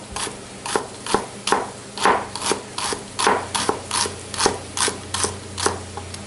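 Knife chopping shallots finely on a board while making tarka dal, a steady series of about fifteen crisp, evenly spaced chops, close and clear with no talk over them.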